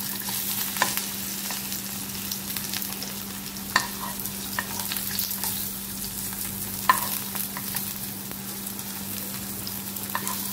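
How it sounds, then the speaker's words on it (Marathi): Aluvadi rolls shallow frying in oil over a medium gas flame, a steady close sizzle with occasional sharp pops and spatters throughout, no talking. "आता आपण ह्या वड्या मीडियम गॅसवरती शॅलो फ्राय करून घेऊ"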